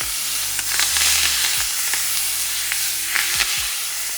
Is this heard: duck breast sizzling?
yes